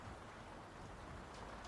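Rain sound effect playing from a TV overlay, a soft, steady broadband hiss that continues without pause and without any voices.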